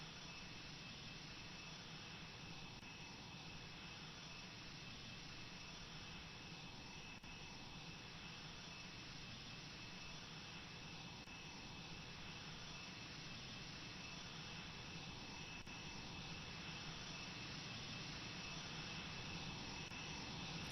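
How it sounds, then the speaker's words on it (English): A Buccaneer jet aircraft runs up for takeoff at an airshow, a steady loud roar of jet engine noise holding constant and unbroken throughout the long stretch, with no voices over it. "The Buccaneer is about to take off and start the display."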